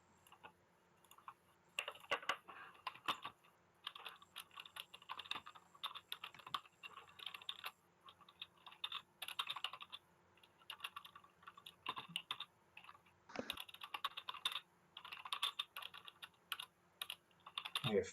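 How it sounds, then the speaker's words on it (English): Rapid, furious typing on a computer keyboard during a tabletop role-playing session, with dense bursts of clicks that pause briefly and resume throughout, fairly close and steady, without speech. "You're furious typing."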